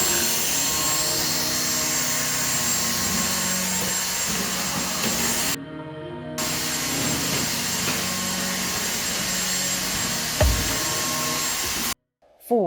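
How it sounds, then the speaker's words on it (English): A vacuum cleaner running on a floor, a steady loud whine and drone held for several seconds, cutting out briefly, resuming, then stopping at the end. "Sweep or vacuum the floor to remove crumbs or spills."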